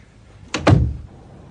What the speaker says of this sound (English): let's shut the damn door